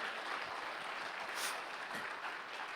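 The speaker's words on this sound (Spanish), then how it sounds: "Dale un aplauso fuerte al Señor." Applause from a church congregation during a Spanish-language sermon, a fairly faint, steady wash of clapping held at an even level throughout.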